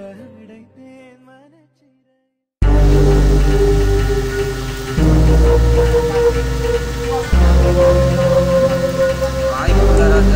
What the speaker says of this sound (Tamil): ரொம்ப அருமையான மழை